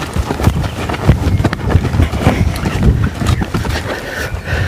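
Hoofbeats thud in an uneven, rolling rhythm under steady wind and rustling, close and fairly loud.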